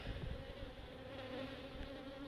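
Honeybees drone around a hive entrance while returning with pollen loads, a steady, close buzzing hum that holds level throughout with no voices.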